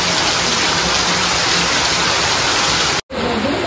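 Steady rain falls in a dense, unbroken hiss, loud and close, cutting out for an instant before resuming.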